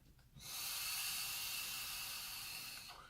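An electronic cigarette coil being primed sizzles and hisses steadily as e-liquid boils on it during a drag, a close, loud broadband hiss that starts abruptly and holds for about two and a half seconds before tapering.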